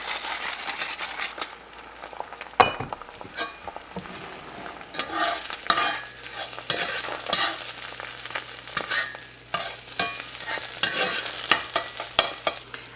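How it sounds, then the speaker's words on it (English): A real egg fries in a pan, seasoned with salt and pepper, giving a continuous crackling sizzle with scraping and stirring noises and occasional utensil clicks against the pan, close by and with no talking. "I'm gonna cook the real egg first."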